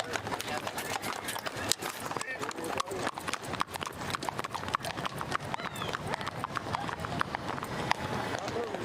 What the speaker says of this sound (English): This horse will hold still.